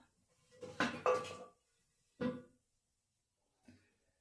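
Tempering is scraped from a pan into a bowl: a few separate metallic clinks and scrapes of utensil on cookware, two close clusters then a fainter tap, with quiet pauses between.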